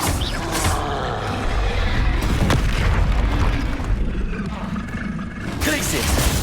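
Confringo fire spells from Hogwarts Legacy burst repeatedly in loud, booming explosions amid a chaotic, continuous roar of combat, with a voice calling out over the blasts.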